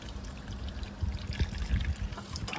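Water pours and trickles steadily for a couple of seconds onto potted black cherry plants, a close, soft splashing with no talking.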